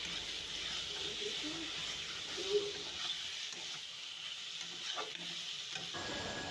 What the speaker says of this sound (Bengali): ভেজে রাখা আলুগুলো দিয়ে দিলাম, আবারও ভালো করে নাড়াচাড়া করে নেব।